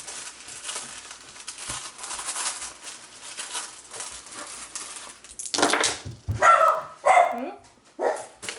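A dog barks at noise from people moving in upstairs, several sharp close barks arriving in the second half after a stretch of quieter indoor rustling.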